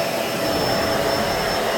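A Bissell vacuum cleaner runs steadily and loudly nearby, a continuous whining motor roar with a thin high-pitched tone and no talk.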